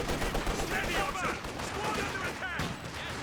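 Rapid gunfire crackles through a Company of Heroes 2 battle, Guards infantry focus-firing in bursts of overlapping rifle and machine-gun shots at moderate distance, running under a commentator's steady voice.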